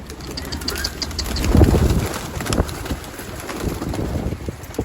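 Pigeons cooing in a rooftop loft in Turkey, soft low coos repeating over a hiss of wind and background noise, fairly close but not loud.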